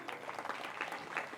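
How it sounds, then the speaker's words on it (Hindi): Audience clapping for donors at a temple gathering, a brief, faint patter of many hands heard from a distance. "ताली बजाई इनके लिए।"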